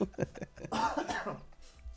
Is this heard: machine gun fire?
no